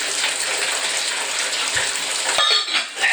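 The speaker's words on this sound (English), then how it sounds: "The shower's flicking on me right now." A steady, close shower spray patters into a bathtub during dish washing, broken near the end by a couple of soft knocks and a brief shift in the splash.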